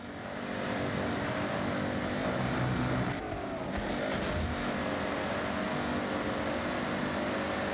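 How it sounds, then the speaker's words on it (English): A powerful vehicle engine roars steadily in a video game, a loud continuous droning growl with a brief shift in pitch midway, sustained throughout without talk. "You hear the engine, how powerful it sounds?"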